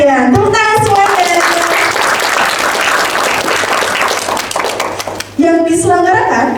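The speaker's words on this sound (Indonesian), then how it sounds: "Tepuk tangan semuanya" Clapping from an audience at a university library book discussion event, a sustained burst of applause between stretches of someone speaking into a microphone at the start and end.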